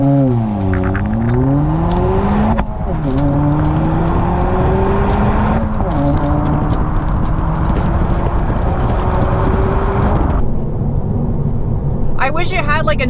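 A 2022 Honda Civic Si accelerates hard through several gears, its engine note with generated sound rising loud and close in repeated climbing sweeps with drops at each shift, while someone talks over it.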